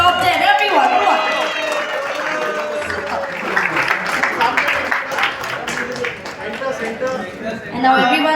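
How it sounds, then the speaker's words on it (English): An audience applauds at a phone unboxing event held aboard a flight. Sustained clapping and crowd cheering fill the room, and a voice talks over the noise. "Can we have a huge round of applause for Oppo and the top 10?"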